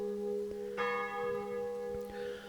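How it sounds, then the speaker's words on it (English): Church bells ring in the distance across the Lethe Valley, with several overlapping tones sustaining and fresh strikes entering, faint and hazy with no voices present. "we can hear the distant bells from their churches floating across the Lethe Valley"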